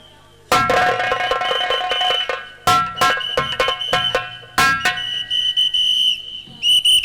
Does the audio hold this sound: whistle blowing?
yes